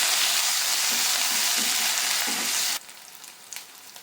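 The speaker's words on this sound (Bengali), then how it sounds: "এবার যেই মশলার পেস্টটা করেছিলাম সেইটা দিয়ে দিচ্ছি।" Spice paste hits hot oil already tempered with mustard seeds and curry leaves for a Bengali pomfret fish curry, giving a loud, dense sizzle that stops sharply to a faint background hiss.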